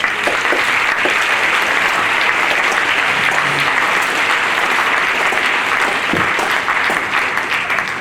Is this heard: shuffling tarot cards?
no